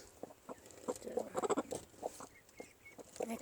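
A Cochin hen clucks softly off her nest in short, irregular low calls, close and fairly quiet, with faint background noise.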